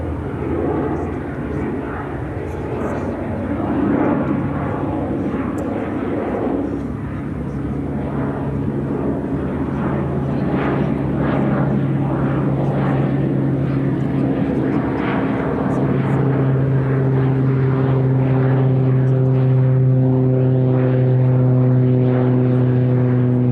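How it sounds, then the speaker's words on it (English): A Cessna Grand Caravan turboprop runs near a Chicago O'Hare runway, its steady propeller drone and droning engine hum building in loudness, with strong sustained low tones toward the end. "Cessna Grand Caravan."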